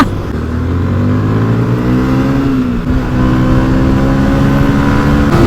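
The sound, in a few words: Yamaha NMAX scooter engine riding on road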